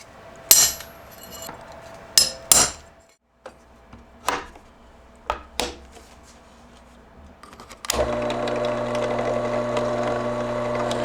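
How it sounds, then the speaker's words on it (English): A steel 80CRV2 knife blank is struck with a center punch in a workshop, giving several sharp metallic taps spaced irregularly, then a steady machine hum takes over near the end. "I'm going to punch the centers on this."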